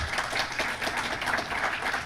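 An audience applauds after a talk at a security conference, a continuous wash of clapping at moderate level with no voices over it.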